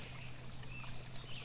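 Spring water trickling out in the Pennsylvania mountains, a steady soft pouring and burbling stream, continuous and close, with no voices.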